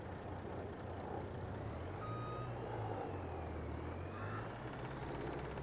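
A truck in Farming Simulator 22 beeps while reversing over a steady engine drone, with a faint hiss that could be air brakes.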